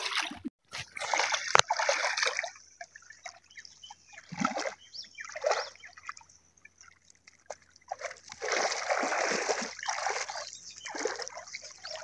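Sea water splashes and sloshes in repeated bursts, close and fairly loud, as rough waves wash around at sea during a fishing outing, with a brief faint voice.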